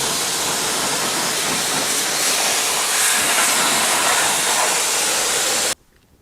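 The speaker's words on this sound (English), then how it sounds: "I'm just going to get the pressure washer out and give that a quick blast to clean off the dust and the grime" A pressure washer blasts a jet of water against an aluminium car wheel on a Tesla Model Y, giving a loud, steady broadband hiss that runs unbroken for several seconds and then cuts off abruptly.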